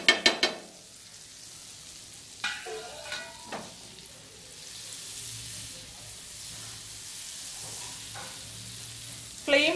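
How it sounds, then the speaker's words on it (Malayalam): Butter melts and sizzles in a flat non-stick pan over low heat, a soft steady hiss with a few sharp clinks and taps at the start and end and brief utensil knocks in between. "ഒരു പരന്ന നോൺ സ്റ്റിക് പാൻ വെച്ചിട്ടുണ്ട്. അതിലോട്ട് 1 ടീസ്പൂൺ ബട്ടർ ഇടുവാണേ"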